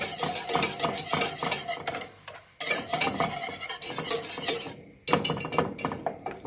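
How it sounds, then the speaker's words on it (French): A whisk beats egg into a sauce in a pot taken off the heat, producing rapid, rhythmic metallic scraping and clinking close by, with two brief pauses before the stirring resumes. "Le fouet."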